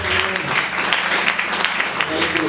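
A church congregation claps in steady, dense applause during a worship service, with a voice speaking over the clapping.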